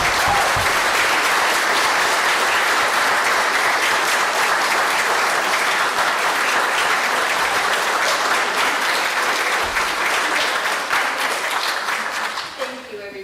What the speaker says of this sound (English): how about a round of applause for Heather?